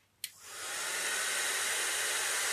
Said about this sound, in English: This is my old trusty heat tool.